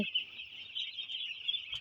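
Five-day-old broiler chicks in a poultry shed give a continuous high, faint peeping chorus, steady throughout the brief stretch with no talk.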